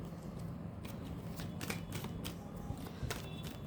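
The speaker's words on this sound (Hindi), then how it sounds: "ओके, हम पहले कार्ड्स निकाल लेते हैं" Tarot cards are shuffled and drawn close by, giving a quiet run of soft riffling flicks and sharp card snaps across a few seconds, with no talk.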